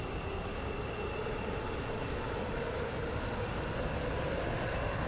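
A Stepford Connect train running in a video game, a continuous, even rumble of motion with a faint steady tone above it, droning at constant level with no pauses.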